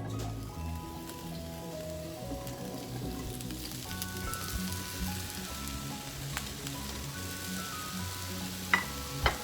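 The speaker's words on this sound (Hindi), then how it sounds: "इसमें हम 2 टेबल स्पून ऑयल लेंगे और सब्जियों को फ्राई करेंगे।" Vegetables fry in two tablespoons of hot oil in a heated pan, giving a steady close sizzle with faint stirring and a couple of sharp clinks near the end.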